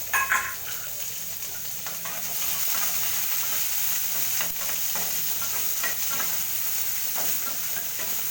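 Curry leaves, onion, green chillies and lentils fry in a hot tempering, giving a loud, steady sizzle with scraping stirs up close and no talk.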